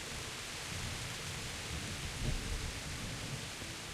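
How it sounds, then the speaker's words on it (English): Steady rain hisses throughout a stormy night in the medieval game Kingdom Come: Deliverance, with a low rumble of thunder swelling briefly near the middle, all broadband and continuous with no voices. "the sound of the rain and the thunder might conceal the sound of our footsteps if we're careful"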